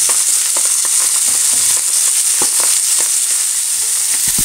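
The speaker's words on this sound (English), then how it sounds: "So we can turn with a pair of tongs, turn the shrimp over." Shrimp and sea bass fry in a pan for a saffron seafood risotto, giving a loud, steady sizzle with scattered crackles and pops as the pieces are turned, and no talking over it.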